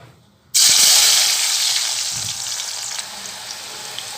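Long onion slices plunge into hot oil and deep-fry for Hyderabadi mutton dum biryani, bursting into a loud, steady hiss that holds for several seconds and slowly eases, close and with no voices.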